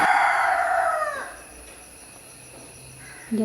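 A single loud rooster crow rings out nearby, trailing off after about a second into quiet background noise.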